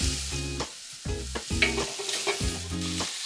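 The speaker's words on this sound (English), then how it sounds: "Now we're going to sear our ribs." Beef short ribs sear in smoking-hot oil in a pan, giving a steady close sizzle with a crackling hiss throughout, under a sustained tonal backing that swells and pauses in regular blocks.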